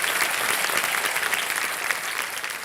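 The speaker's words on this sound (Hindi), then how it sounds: "तालियों के साथ इनका स्वागत किया जाए।" Steady studio audience applause on a Hindi television quiz show set, a dense wash of many hands clapping continuously at an even, fairly loud level with no pauses.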